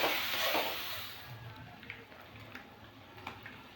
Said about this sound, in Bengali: হলুদ গুঁড়ো দিয়ে একটু কষিয়ে নেব